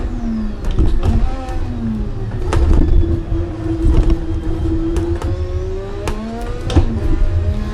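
Turbocharged race car engine in Assetto Corsa screaming under heavy boost, a steady high whine rising and holding with sharp gear-change blips, loud and continuous.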